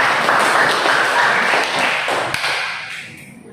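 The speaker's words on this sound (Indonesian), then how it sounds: "Tepuk tangan untuk kita semua." A classroom of students claps together in a loud, dense burst that tails off over a few seconds, with a few sharper claps near the end.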